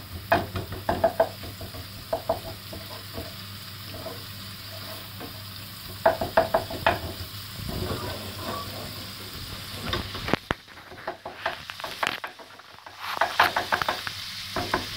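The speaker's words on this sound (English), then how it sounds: "Doesn't take long to do bacon, so I'm just going to make sure this is all separated." Smoked bacon frying in a pan, a steady sizzle and crackle under repeated stirring knocks and scrapes as the strips are separated, fairly close and continuous with brief quieter gaps.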